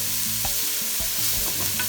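Asparagus sizzles in a hot, heavy-bottomed 12-inch cast skillet with spinach and green garlic, with a steady frying hiss broken by several close clunks of stirring.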